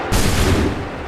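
A massed musket volley in Assassin's Creed III goes off as one loud, sudden crack-and-boom that fills the space and then decays into a rolling, smoky rumble, with no other sounds around it.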